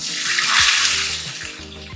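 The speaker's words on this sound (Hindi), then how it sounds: "ये हम पानी डाल देते हैं" A steady stream of water pours and splashes into a cooking pot, a continuous rushing sound close by with faint tonal hum underneath.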